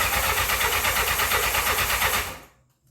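Engine of a 1984 Honda CB700SC Nighthawk motorcycle, just after a carburetor cleaning, cranks with a fast, steady, loud chugging rhythm for over two seconds without catching, then cuts off to silence.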